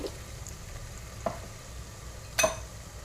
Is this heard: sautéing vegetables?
yes